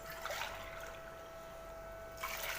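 Water poured from a glass into a cooking pot for chicken pulao with raw basmati rice, a faint, brief splash and trickle at the start and another at the end, quiet otherwise.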